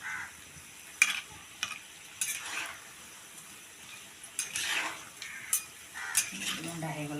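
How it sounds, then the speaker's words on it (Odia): Suji kakera manda frying in a pan on a clay chulha stove, a soft sizzle broken by clinks and scrapes of a metal utensil against the pan, with a voice briefly heard at the end. "ଏଇଠି ଚୁଲିରେ ଛଣା ହେଉଛି"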